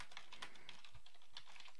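Fingers tap out messages on a computer keyboard in quick, irregular clicks, close and clear with no talking.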